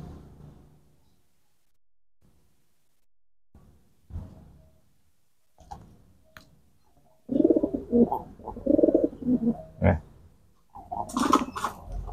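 Racing pigeons being trained to court and drive, cooing in soft throaty bursts, faint and sparse at first then louder and busier, with a nearby voice talking over them.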